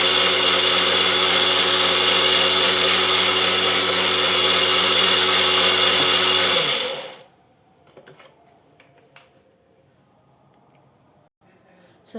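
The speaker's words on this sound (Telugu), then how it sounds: "మజ్జిగి గిలకట్టక్కర్లేకుండా మిక్సీలో వేసాను" A mixer grinder churning buttermilk whirs loudly and steadily for several seconds, then shuts off abruptly, leaving quiet room noise with small clinks.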